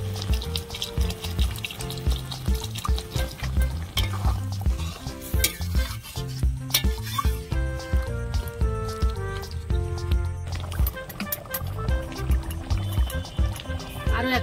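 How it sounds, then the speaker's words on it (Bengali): Masala frying and being stirred in a pan for a Bengali vegetarian chana-matar dish, with water poured in; a steady sizzle with scraping stirs runs throughout under a tonal background. "এবার আমি অল্প করে একটু জল দেব"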